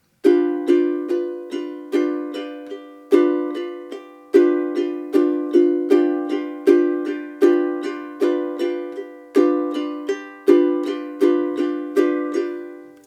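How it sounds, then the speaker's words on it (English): Ukulele split strokes begin on beat 4, crisp strummed chords repeating in a steady rhythmic pattern with accented strokes each bar, bright and close with no voice. "So for our first rudiment starting on beat 4,"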